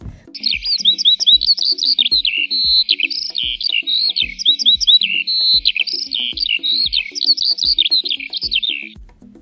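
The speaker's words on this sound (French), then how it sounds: "l'oiseau gazouille dans l'oreille de la girafe." Bright twittering bird chirps repeat in quick rhythmic phrases throughout, set over soft plucked or tapped musical notes in the background of a children's story.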